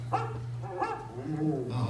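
Dog barking in an animatronic theater show, a few short barks and whimpers heard close, mixed with talking and a low steady hum.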